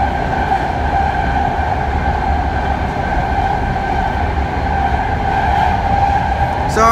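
A new eight-car SF/Daly Fleet of the Future train rumbles steadily toward downtown, with a continuous loud interior roar of wheels and motors, a faint whine running through it and a brief squeal near the end.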